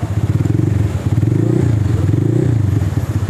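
Honda Vario scooter fitted with a custom racing exhaust, running close up with a loud, throaty, pulsing idle and small swells of revving that hold steady throughout, no talking.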